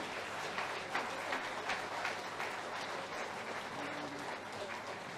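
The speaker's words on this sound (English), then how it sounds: "A massive round of applause for both your finalists," Audience applause for two young finalists at a Welsh snooker youth final, steady clapping from a sizeable crowd at moderate volume throughout, with no voice over it.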